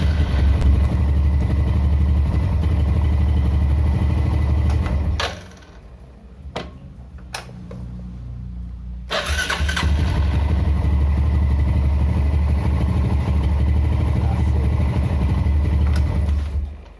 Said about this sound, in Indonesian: Dengerin suara starternya ya